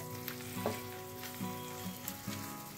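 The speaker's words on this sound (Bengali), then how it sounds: "এবার আলু পটলের সাথে মশলাটা জাস্ট কয়েক সেকেন্ড একটু সাঁতলে নেব" Potatoes and pointed gourd sauté with spices in a hot pan for a Bengali rui fish curry, giving a steady close sizzle with a few sharper spits and stirring scrapes, no talk.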